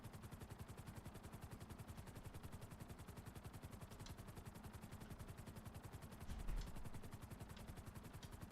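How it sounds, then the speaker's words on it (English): Faint, distant explosions and gunfire from GTA Online, sounding as a steady rapid crackle with a few sharper low thumps near the end, all quiet and far off. "I think I can hear faint explosions."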